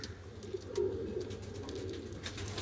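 Low, soft cooing of pigeons murmurs continuously, several birds overlapping in a gentle, throaty rhythm with faint fluttering noises.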